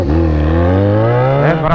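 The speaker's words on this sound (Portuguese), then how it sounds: "o bagulho tá dando uns estralos no escape, mano" A Jaguar XJ6 engine is driven in the rain, close and loud, with a smooth rising drone as it accelerates and a burst near the end.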